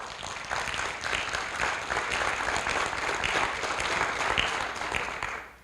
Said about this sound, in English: So please, students, join us in a round of applause for our families here today.